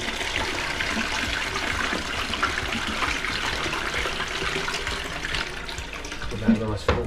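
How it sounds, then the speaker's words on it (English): A toilet flushing after a severe clog has been cleared, a steady rush of water filling and draining that runs the whole time at moderate, close level. "Get that nice full flush."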